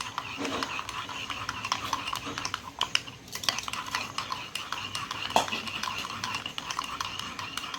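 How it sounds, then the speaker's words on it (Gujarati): A spoon stirs milk into a chocolate mixture in a pot, making irregular light scraping taps and clinks against the sides, moderately close and continuing throughout. "પછી આવશે દૂધ ને આપણે હવે એને મિક્સ કરી દઈશું"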